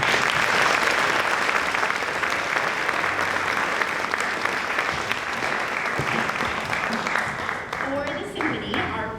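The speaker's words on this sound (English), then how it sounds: "Please give the choir students one final round of applause." An audience at a high school concert gives choir students a final round of applause, loud sustained clapping from a large crowd that fades toward the end as voices and music begin.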